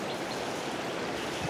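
A creek at a garden's edge flows in a steady, close, full rush of running water, constant throughout with no voices.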